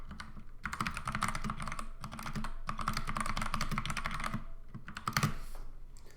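Steady typing on a computer keyboard as code is entered, close and fairly quiet, with rapid clicking bursts broken by short pauses and a louder keystroke near the end.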